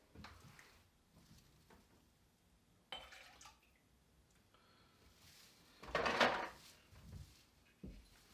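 Coffee is poured into a cocktail shaker for a whisky espresso martini. Faint trickles and drips lead to one short, louder splash of pouring near the end, in a quiet room.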